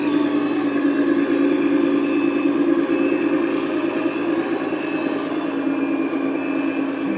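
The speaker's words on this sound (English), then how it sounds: "Once you press it, you hear a beeping sound and then you'll be able to drive" Steady electronic beeping from the sound system of a Unitru FH16 1/14-scale 10x10 RC truck, a continuous tone pattern layered over a simulated idling truck engine hum, close and fairly loud throughout.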